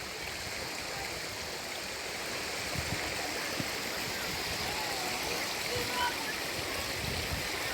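Steady rush of a flowing stream running behind a spot where children play in the water outdoors, a constant close wash of water noise with no breaks.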